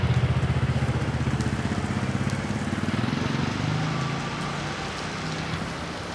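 Heavy rain pouring down on a very dark day, a dense continuous hiss with a low rumbling undertone, loud and steady throughout.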